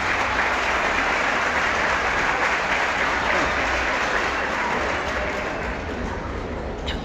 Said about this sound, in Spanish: Aplausos primero.